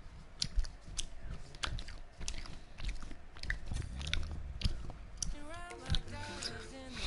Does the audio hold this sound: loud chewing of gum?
yes